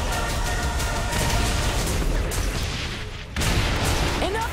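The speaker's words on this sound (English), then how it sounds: "Enough with the explosions!" Dense explosions and gunfire fill the scene throughout in the action video game Saints Row: The Third. The noise is loud and chaotic, with a brief dip before another blast.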